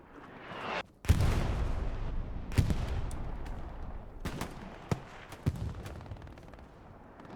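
Gunfire in the World War II shooter Hell Let Loose: sharp rifle and machine-gun shots with booming reports and rolling echoes, some close and loud, others more distant, over a battlefield rumble with no talk.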